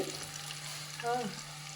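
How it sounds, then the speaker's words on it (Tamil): Onions sautéing with salt in a pan for mutton biryani give a steady close sizzle with a brief brighter scrape of stirring near the end, no talk over it. "நல்லா வதங்கட்டும் வெங்காயம் வதங்கிறதுக்கு உப்பு போட்டுக்கலாம்"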